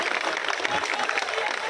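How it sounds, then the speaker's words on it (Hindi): A crowd at a political rally at Jantar Mantar in Delhi claps in a dense, continuous wash, with voices mixed in. "थोड़ा तालियां तो बजा दो।"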